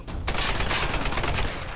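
Rapid gunfire in the 2013 Tomb Raider video game, a dense burst of repeated shots in quick succession that fills most of the moment, loud and close with no talking.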